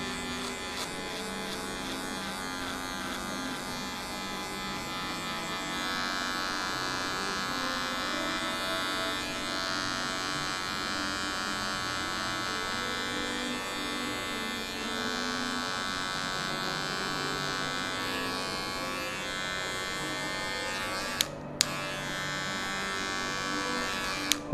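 Electric hair clipper with the zero guard cutting a fade, a steady mid-pitched buzzing drone running continuously with small shifts in tone as it moves through hair, ending with a couple of sharp clicks.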